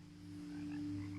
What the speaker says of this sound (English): There's a frog there, there's a frog there.